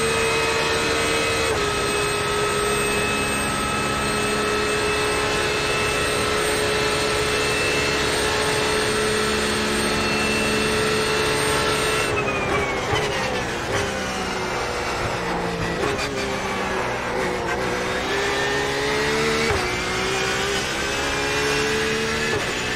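A Porsche 911 RSR race car engine in iRacing roars continuously at high revs, with a gear shift and pitch drops partway through, loud and steady throughout without talk.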